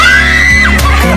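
A loud, shrill scream rings out close by, held high and steady for just over a second with a slight waver near the end.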